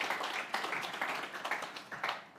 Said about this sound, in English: we give him a warm round of applause as he makes his way off of stage